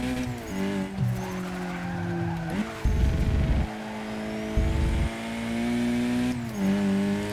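A hatchback, a Volkswagen R or Audi RS3, is driven hard on a track: the engine drones and shifts pitch while tires squeal loudly in two hard braking bursts.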